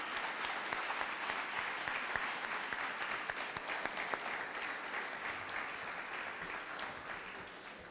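An audience at a city merit awards ceremony gives volunteers a long, steady round of applause, many hands clapping evenly at a distance, fairly soft and unbroken throughout.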